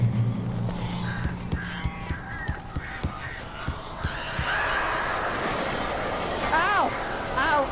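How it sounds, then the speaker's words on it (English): Crows caw from within an enclosed room in the Alan Wake video game, harsh calls repeating near and far over a low rumble, with a voice speaking underneath. "These birds are weird."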